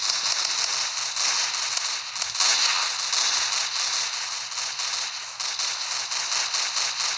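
Rapid gunfire in the Roblox zombie rush game, a steady stream of sharp, crackling shots repeating quickly and loudly throughout.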